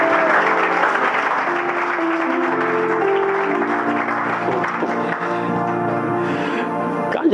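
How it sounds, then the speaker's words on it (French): A church congregation bursts into sustained applause at an evangelical sermon, loud and steady for several seconds, with voices calling out over the clapping. "Acclamez le Seigneur si vous me saisissez."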